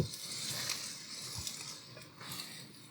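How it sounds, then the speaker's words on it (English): Meat sauce sizzles steadily in a hot pan as its liquid cooks off, a soft hiss with faint stirring scrapes, fairly quiet and close. "we need to cook it till the liquid evaporates and it's sizzling"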